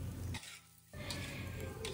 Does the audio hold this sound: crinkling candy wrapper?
no